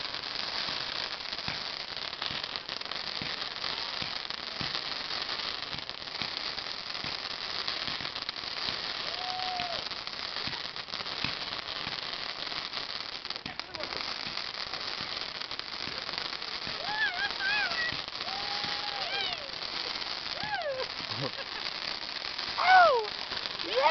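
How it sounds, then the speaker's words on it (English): Fireworks going off after a fuse is lit, a dense, steady crackling that continues for over twenty seconds at moderate distance, with a few thin whistling squeals rising near the end. "Oh! Yeah! Fireworks! Oh my God! Wow!"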